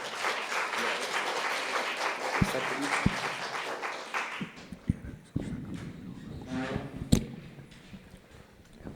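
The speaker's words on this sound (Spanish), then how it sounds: "lo recibo con fuerte y caluroso aplauso" Audience at a psychomotricity lecture giving a welcoming round of applause, dense clapping for several seconds that thins into scattered claps and fades, with some room murmur underneath.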